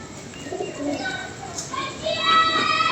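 Pigeons coo softly on a rooftop in a steady, low murmur, with faint chirps and distant voices in the background.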